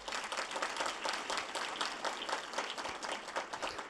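Steady applause from an assembly audience of faculty and staff at a spring gathering, dense even clapping from many hands sustained throughout, with no talk over it.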